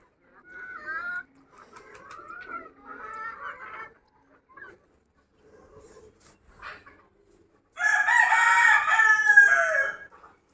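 A rooster crows repeatedly near chicken coops built on a rooftop, several drawn-out crows with clucking fowl in between, the final crow loudest and closest.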